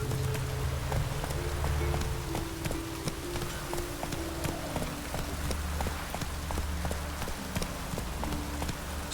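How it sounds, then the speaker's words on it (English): Steady rain patters on the ground in The Witcher 3, with a horse's hooves clip-clopping through it in an even, continuous rhythm. "Rain doesn't bother you."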